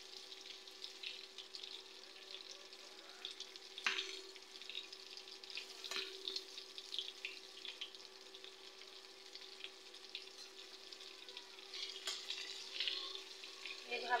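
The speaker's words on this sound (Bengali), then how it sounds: "আবারও আর এক পাশ উল্টে দিচ্ছি, যেন সব পাশই খুব ভালোভাবে ভাজা হয়।" Pointed gourd (potol) pieces fry in a pan with a steady, faint sizzle throughout, broken by a few soft clicks as they are turned.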